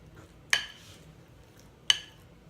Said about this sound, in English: I just take my spoon and kind of press down